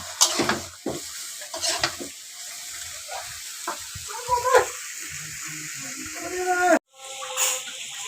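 Fish curry of gainna fish cooking in spices in a pan, with a gentle sizzle, stirring scrapes and watery bubbling in uneven bursts, a brief cut near the end.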